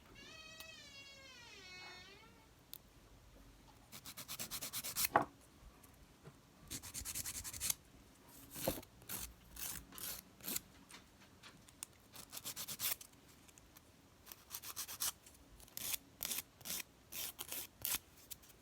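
A cat gives a short meow at the start. A nail file then rasps against a fingernail in bursts of quick strokes with pauses between, close and fairly soft.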